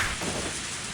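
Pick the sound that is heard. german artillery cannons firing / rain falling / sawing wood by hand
rain falling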